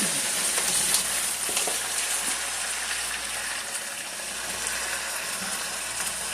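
Potatoes fry in a hot pan with a steady, loud, close sizzle that runs the whole time, dotted with faint scraping and stirring clicks. No one speaks.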